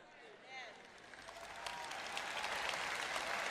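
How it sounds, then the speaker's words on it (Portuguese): An audience at a sermon applauds, the clapping building from scattered and moderate to a loud, dense ovation that fills the room, with a voice heard faintly under it at the start. "Ouvindo quem bate palmas e como as palmas são altas"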